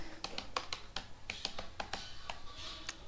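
Quick keyboard typing during a Canva design lesson, with a dozen or so sharp, irregular key taps over steady faint background noise and no talking.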